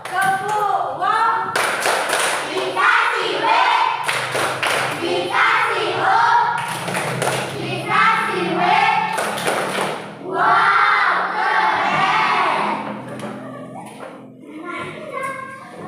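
A fifth-grade class in a classroom does a rhythmic clapping cheer, with sharp bursts of claps over children's chanting voices that rise and fall across the clip.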